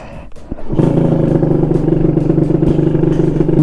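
A Kawasaki KR150 two-stroke motorcycle being ridden during run-in, its engine rising into a loud, steady droning buzz after a brief quieter start with a couple of sharp clicks, holding close and strong throughout.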